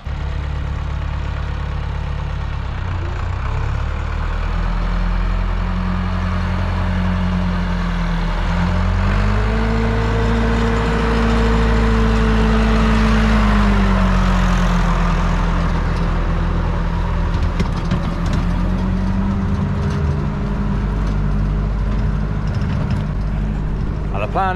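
A farm tractor drives across a road near the coast on a calm evening, its engine a steady low rumble that rises and shifts in pitch as it moves, fairly close and continuous throughout.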